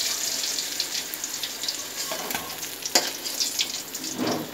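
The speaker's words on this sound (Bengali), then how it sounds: "এবার এই পাশটা উল্টে দিলাম, উল্টে দিয়ে আর একটু হবে মাছটা ভাজা" Katla fish pieces frying in oil in a pan, a close, bright sizzling crackle with scattered louder pops and spatters, steady throughout and free of speech.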